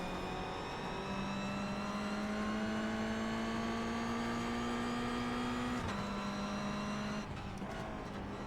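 Mazda MX-5 race cars in the racing game iRacing on a wet-to-dry Las Vegas track, a continuous engine drone rising slowly in pitch, then shifting gear near the end, steady and close.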